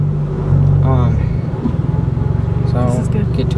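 A rebuilt Honda Del Sol launches from a standstill, the engine revving up sharply before rising through a hard pull, mixed with the thrum of the car in motion.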